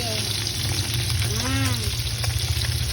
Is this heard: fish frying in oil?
yes